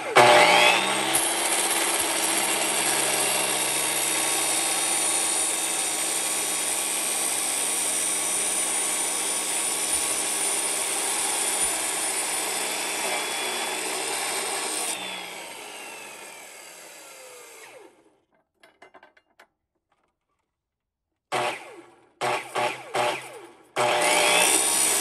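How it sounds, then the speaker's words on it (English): A chop saw fitted with an abrasive cutoff wheel grinds slowly through metal for a whippet gun build, a loud steady whine lasting about fifteen seconds before spinning down, followed by silence and a few short bursts of handling noise. "we're doing the super sketch with a cutoff wheel and a chop saw"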